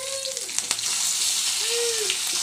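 Mustard seeds and curry leaves frying in a little oil for a chicken fry, a bright steady sizzle close up with brief crackles and pops, no talking.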